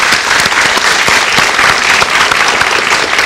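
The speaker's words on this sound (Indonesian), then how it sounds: "Beri tepuk tangan untuk Dr. Andreas." A studio audience applauds a doctor on an Indonesian health talk show, with steady, loud, dense clapping that carries on for a few seconds with no gaps.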